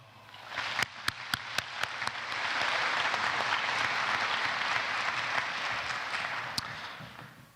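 Audience at a university commencement ceremony applauding to welcome the stage party, a few sharp claps swelling into sustained, even applause from a large crowd that fades toward the end.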